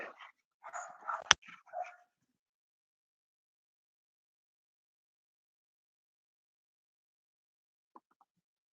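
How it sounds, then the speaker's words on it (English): A short burst of dog barking and yipping at close range, then near silence with one faint sound later. "my dogs are barking"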